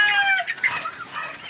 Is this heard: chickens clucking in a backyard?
yes